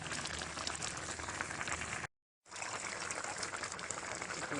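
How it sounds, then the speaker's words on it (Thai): Taro stalks boil in a pot with a steady, dense bubbling and gurgling that fills the whole clip, broken once by a short gap of silence midway. "ต้มให้บอลเปื่อยก่อนจ้ะต้มให้บอลเปื่อยจากน้อยก่อน"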